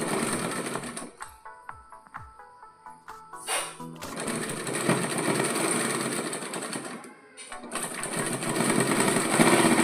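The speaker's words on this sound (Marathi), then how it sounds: "आधी शिलाई मारून घेते." Sewing machine stitching a katori blouse, starting with a few slow clicks and short runs, then settling into a loud, continuous close-up whirring that briefly pauses before running on steadily.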